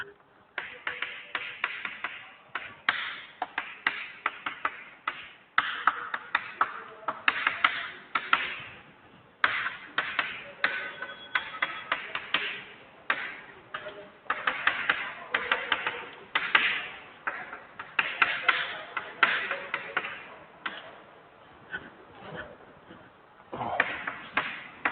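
Chalk tapping and scratching on a classroom board as Boolean identities are written out during an electronics lecture, a steady run of sharp, close clicks and short strokes with brief pauses, no talking.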